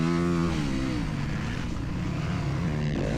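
A 2025 Yamaha YZ250FX dirt bike engine drones steadily and close as the rider works through ruts on a dirt track, its pitch rising at the start, dipping, then climbing again near the end.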